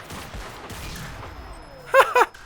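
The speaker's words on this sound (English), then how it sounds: "And we are out and down to the pistol." Pistol gunfire in the shooter game Crysis 3, two sharp, loud shots in quick succession near the end, after a stretch of quieter ambient game noise.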